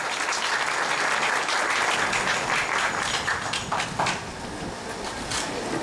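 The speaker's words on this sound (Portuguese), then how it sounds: "Uma salva de palmas para a palavra." A Catholic congregation at a family rosary gathering applauds after the Gospel reading, a dense, steady wash of many hands clapping that fills the space at even loudness, easing slightly toward the end.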